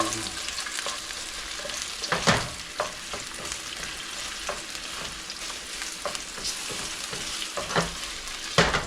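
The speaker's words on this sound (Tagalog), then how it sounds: "Ayun mga kabule, mamaya mga kabule, luto na natin yung ating tosino" Pork tocino frying in a pan outdoors, a constant crackling sizzle with occasional louder spits and stirring scrapes, close and steady throughout, no voices.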